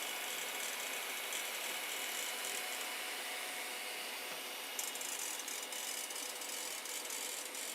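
A small wiper motor drives a shredder for 3D-printed parts, its mechanism rubbing against plastic with a steady ratcheting, grinding whir that holds level throughout, slightly brighter in the second half.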